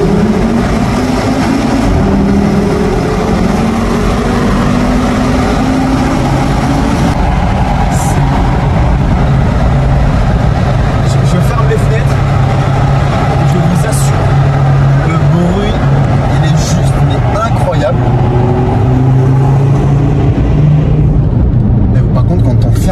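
An Audi RSQ3 revs hard inside a tunnel, its loud engine note rising and falling in sweeping pitch climbs with a booming, echoing roar, while someone talks over it in places.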